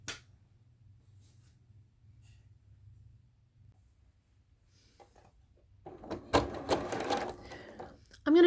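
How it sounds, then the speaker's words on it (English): A sewing machine runs steadily and softly while stitching a fabric table runner, a low continuous hum for about six seconds before handling noises and fabric rustling take over near the end. "And we're ready to sew."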